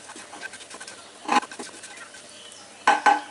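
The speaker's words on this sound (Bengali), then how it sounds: "এই 20-25 সেকেন্ড ভাজলেই হয়ে যাবে।" Whole cardamom pods, cloves and cinnamon pieces fry in a pan while a spoon stirs them. Faint sizzling runs under a few short, scraping clatters that come in two clusters.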